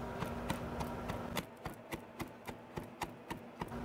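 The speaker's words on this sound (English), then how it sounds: "First thing you want to do is chop up about 1/2 cup of fresh parsley." A knife chops fresh parsley and jalapeno on a cutting board, starting with fast steady strokes and then slowing to evenly spaced single thwacks, close and clear with no talking.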